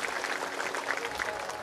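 An audience at a Bhagavat katha gathering claps together in a brief, dense burst of applause, close and steady, with a voice faintly underneath.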